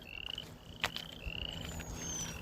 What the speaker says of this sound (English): We are hearing more frogs,